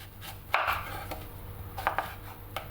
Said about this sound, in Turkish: Küp küp doğruyoruz sadece orta erilikte. Kabaklarımız da aynı şekilde.